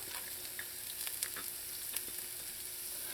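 Onions and pimento pepper sizzle in oil heated over medium-low heat, a fairly quiet, steady crackle with scattered small pops and spits, close by and without voices.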